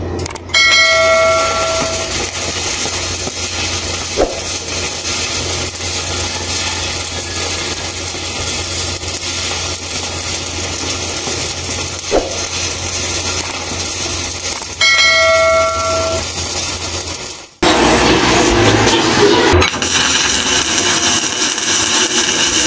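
SMAW arc welding with an E6013 electrode, 1/8 inch (3.2 mm), machine set to reverse polarity: a loud, steady crackling hiss runs for about seventeen seconds, then breaks off abruptly into a harsher, different noise.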